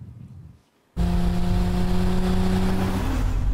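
Car engine in a Super Bowl TV commercial bursts in loud after a brief near-silence, then holds a steady, sustained rev with strong harmonic drone and no voices.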